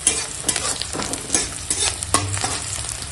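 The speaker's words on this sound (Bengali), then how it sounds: "পেঁয়াজ কুচোটা তেলের ওপর দিয়ে দিলাম আর দিয়ে দেবো কাঁচা লঙ্কা চেরা" Chopped onions and slit green chillies sizzle loudly in hot oil, with scraping stirring strokes and bursts of crackle across a few seconds.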